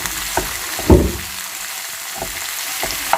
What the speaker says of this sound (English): I'm going to let it saute for about a couple of minutes